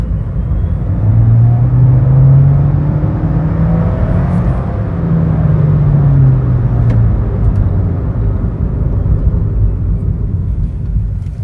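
A 2024 MG3 Hybrid+ full-hybrid automatic, rated at 194 HP, climbs a hill with a steady low engine and road rumble that rises and falls in pitch, heard from inside the cabin without talking.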